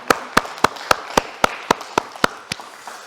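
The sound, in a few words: congregation applause in church service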